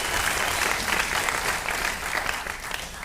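Audience applause at a marketing event, sustained dense clapping from a crowd at moderate distance, steady throughout with no talk over it.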